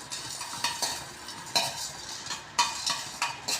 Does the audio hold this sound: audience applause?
no